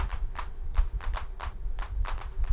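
Handclap sample run through a GateLab gating effect, producing a quick, evenly spaced stutter of short, chopped claps, about nine hits in a steady rhythm, fairly quiet and alone.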